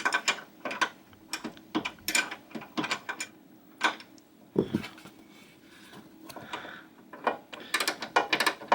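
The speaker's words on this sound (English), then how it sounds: "use another wrench on the end here to loosen this and get this lock nut off" A wrench works a lock nut loose on a Sole treadmill during a drive belt replacement: a string of close metallic clicks and ratcheting bursts, irregular in spacing, with brief pauses between turns.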